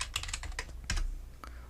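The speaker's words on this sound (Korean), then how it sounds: "저는 이 해상도 대신에 직접 타이핑을 해서 1280," Typing on a computer keyboard while setting render resolution in Blender 3.0: a quick run of crisp key clicks, then a couple of isolated louder keystrokes, close and clear with no voice.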